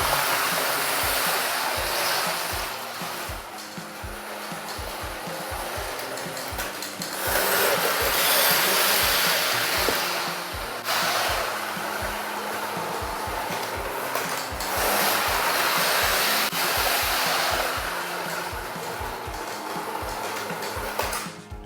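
Jouef Hornby TGV Atlantique model train starting haltingly on PIKO track, a steady whirring motor hum with rhythmic clicking of wheels over rail joints, rising and easing in waves.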